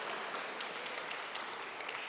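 A debate audience claps in a dense, continuous round of applause, many hands together at an even level, without pauses.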